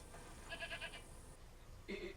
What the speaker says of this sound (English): See, you found the goat.